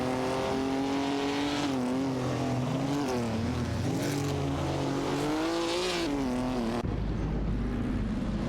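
Engines of racing cars in a video game, including a Mercedes-Benz 300 SLR and a Maserati 450S, drone loudly and steadily, their pitch sweeping up and down as they rev and shift, before a sudden cut to a deeper rumble.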